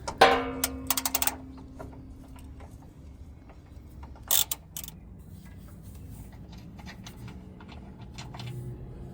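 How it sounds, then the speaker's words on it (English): A ratchet with a 16mm socket on an extension turning rear shock bolts on a 2013 Jeep Wrangler JK: quick bursts of close, sharp clicking, then a pause and another brief burst over faint background noise. "I've got my 16mm socket with an extension here on my ratchet"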